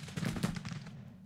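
Musket fire from soldiers in a Civil War battle, a ragged volley of overlapping shots crackling over about a second against a low rumbling background, moderately loud.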